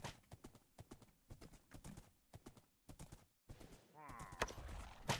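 Horse hooves clip-clopping in the video game Minecraft, a quick, regular series of close, crisp hoofbeats that stops briefly and then comes back under a rising whinny near the end.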